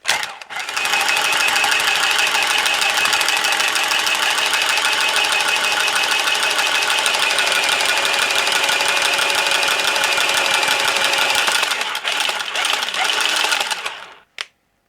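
A Milwaukee M12 cordless pipe cutter runs steadily while cutting 1/2 inch copper tube, a loud continuous whirring motor drone lasting about thirteen seconds before cutting off abruptly, with a short click at the end.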